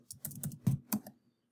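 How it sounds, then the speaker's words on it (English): Quick typing on a computer keyboard, a short burst of close, crisp key clicks with a couple of heavier strokes, then it stops into silence. "just start typing in your name"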